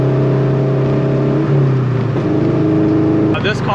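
A heavily modified Subaru BRZ / Toyota 86 (FRS) engine drones and rises as the car accelerates, a loud steady tone inside the cabin with a gear change partway through.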